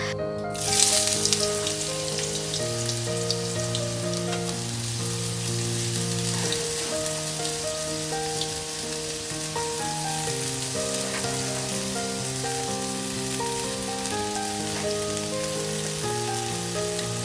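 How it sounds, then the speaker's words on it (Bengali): Potatoes fry in hot oil with a loud, continuous sizzle and crackle after a sharp initial hiss, steady throughout with no talking. "আলু ভাজাটা তো গরম তেলের মধ্যে দিয়ে দিলাম"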